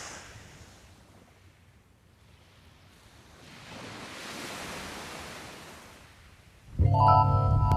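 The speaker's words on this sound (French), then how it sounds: "s'il y a peu de fond, immédiatement, on a des vagues qui se forment et qui sont beaucoup plus marquées" Waves breaking on a shallow Mediterranean beach at a surfcasting spot, a soft washing roar that swells and fades, then a sudden loud close rumble of wind or handling noise at the end.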